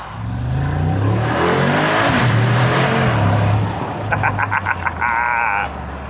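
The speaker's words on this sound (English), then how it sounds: "if you want the V8 rumble in the latest G-Wagon, you're getting a 63 AMG." A deep V8 engine of a 2025 Mercedes G63 AMG rumbles and revs up close through its side exhaust, then a run of short, rapid pulsing bursts sounds near the end.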